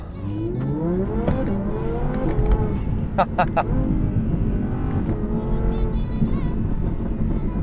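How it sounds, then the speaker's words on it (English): An Audi R8 in sport engine mode pulls away in first gear, its engine note rising through repeated revs up close while a person talks over it. "Go ahead and put it into drive, flick it in first gear, and off we go."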